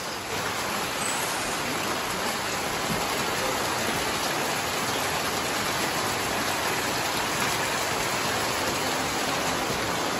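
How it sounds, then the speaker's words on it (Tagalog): Heavy rain pours down in a dense, unbroken hiss, loud and constant throughout with no other sounds standing out. "Grabe suga ulan guys"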